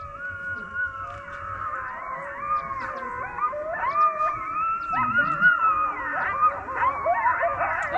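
Coyotes howling in the wild, several overlapping wavering howls rising and falling in pitch, with a few yips, moderately distant, continuous throughout with no talk.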